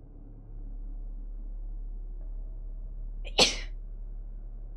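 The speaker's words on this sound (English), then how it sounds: "Oh, I'm gonna sneeze." A single sharp human sneeze bursts out over a low, steady background hum, loud and close, after a quiet stretch.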